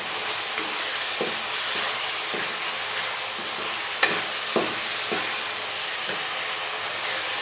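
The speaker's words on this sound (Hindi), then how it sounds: "अब हमें इसकी अच्छे तरीके से बुनाई करनी है।" Minced meat keema with peas is stir-fried in a kadai, a steady close sizzle with repeated scraping and stirring knocks from a spoon against the pan, one sharper clank midway.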